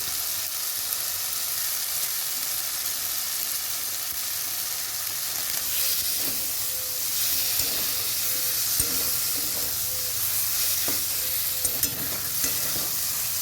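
Meat masala for a soya and egg biryani stirring and frying in a pan, a dense continuous sizzle and hiss with intermittent scraping strokes of a spatula, close and fairly loud, no talking.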